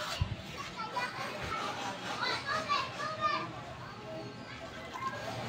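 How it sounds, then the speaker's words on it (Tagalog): Children playing below a Filipino rooftop vegetable garden in the late afternoon, their distant shouts and chatter forming a steady, busy background without any close voice. "Naglalaro sa baba guys, mga bata."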